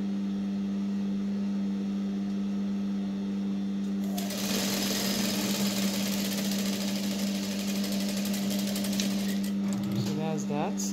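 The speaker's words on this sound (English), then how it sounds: "Going to sew it down to that tip." A sewing machine stitches a dress panel down to the tip of a dart, a close, busy mechanical whir that starts partway through over a steady low hum, and a brief rattle comes near the end.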